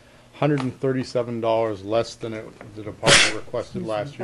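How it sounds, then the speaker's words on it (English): A young man sneezes once during a budget presentation at a board meeting, a sharp burst cutting in amid ongoing speech. "The young man sneezed"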